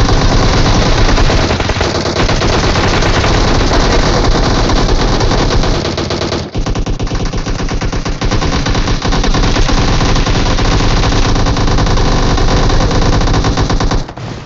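Loud, nearly continuous automatic gunfire in PUBG Mobile, long rattling bursts of shots with a brief break near the middle, close and dominant throughout.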